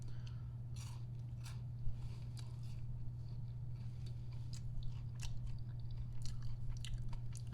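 Someone chews birthday cake cookies with sprinkle coating close to the mic, giving soft, irregular crunchy bites over a steady low hum, with no talking.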